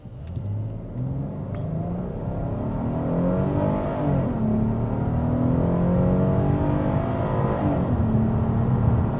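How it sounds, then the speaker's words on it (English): A 2026 Hyundai Palisade Calligraphy engine revs up steadily in sport mode with climbing pitch through the gears, loud and close, accelerating hard to 60 for several seconds with no talking. "I'm just going to plant my foot to the gas."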